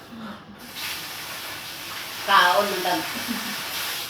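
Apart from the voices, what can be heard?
spraying rice plants with a sprayer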